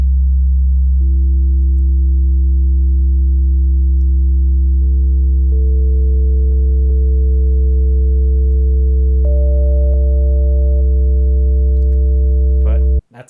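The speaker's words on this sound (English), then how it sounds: "So we're trying to make a triangle wave from a sine wave" Synthesized sine tones steadily stack into a triangle wave, a loud low hum with higher harmonic tones added one by one over several seconds, ending in an abrupt cutoff.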